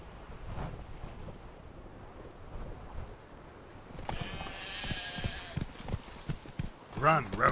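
Hoofbeats of the horse Roach galloping in The Witcher 3: Blood and Wine, a steady rhythmic clip-clop under game dialogue and ambient music, with a brief whinny near the end.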